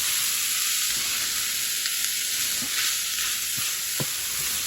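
Carrot and green onion stir-fry in a hot pan with a steady, loud sizzle and a few soft scrapes of stirring. No one speaks.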